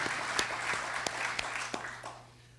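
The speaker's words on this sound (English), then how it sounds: "Let's give a round of applause to their general manager, Ken Razor, and their incredible technical team" Audience applause at the 2024 Moorpark State of the City event, honoring a general manager and technical team; a steady wash of clapping with a few sharper claps that thins and fades toward the end.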